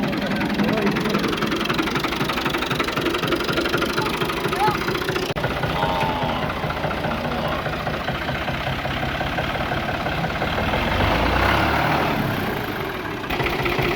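A tractor engine runs steadily after a push start, a low rumbling chug throughout, with people talking nearby over it.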